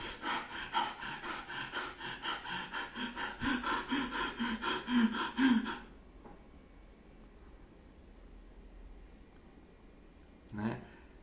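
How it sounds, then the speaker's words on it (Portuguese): A person demonstrates anxious breathing with rapid, rhythmic panting, about two loud breaths per second for six seconds, then quiet room tone and one final exhale. "a respiração de uma pessoa num processo de ansiedade"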